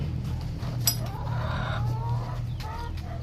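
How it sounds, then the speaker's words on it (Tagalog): Hens and native chickens on a Philippine backyard farm cluck in a steady background murmur, with a short sharp call near the start and a constant low hum beneath the birds. "Marami po kaming hen."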